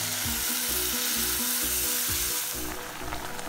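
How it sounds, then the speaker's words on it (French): Shiitake soaking water hits a hot pan of frying soup base for a vegan peanut satay soba soup, a steady close sizzle and bubbling hiss with stirring scrapes, rising brighter near the end. "on va mouiller le tout avec l'eau de trempage des shiitake"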